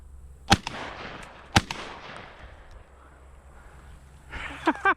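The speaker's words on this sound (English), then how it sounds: "That was a hell of a shot." At a dove hunt, two sharp shotgun blasts crack out about a second apart, followed by a few more pops near the end, heard outdoors with people talking.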